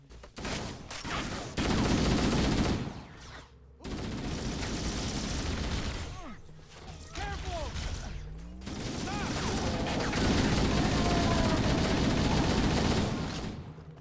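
Gunfire in Halo: Combat Evolved, with bursts of rapid automatic shots and blasts coming in loud sustained stretches, broken by short gaps and mixed with whistling game effects.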